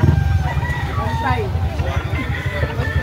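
Roosters at a rooster farm crow and cluck repeatedly, fairly close, under continuous background chatter and a busy crowd hubbub.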